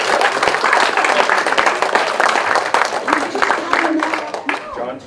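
Applause from an audience for a volunteer at a mentalist show, a burst of crowd clapping with sharp individual claps standing out, mixed with talking throughout.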